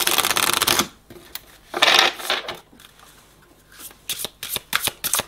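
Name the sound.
shuffling tarot cards for a spiritual card reading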